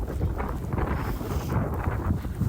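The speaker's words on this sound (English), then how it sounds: "PCT is windy, like really, really windy." Strong wind on the Pacific Crest Trail roars and buffets against the microphone, a continuous rumbling gust with low booming pressure and no voices.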